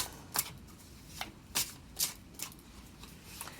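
Tarot cards are shuffled by hand up close, giving a series of soft, quick riffling bursts spaced irregularly over quiet room tone, no voices.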